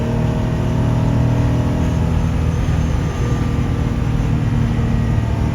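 A 1955 Mercedes-Benz 300SL Gullwing drives at about 100 mph in fourth gear at 4,500 rpm. Its engine gives a loud, steady, close drone that holds without a break. No one speaks.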